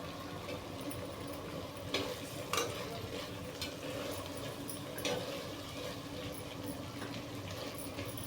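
Coconut, tomato and other chutney ingredients fry in a pan with a steady, close sizzle, broken by a few sharp scrapes and clinks of stirring and no voices.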